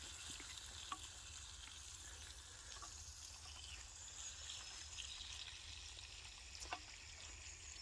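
Bacon sizzling and frying in a pan at a campsite breakfast, a steady soft crackle with a few brief sharper pops, fairly quiet and continuous with no talk.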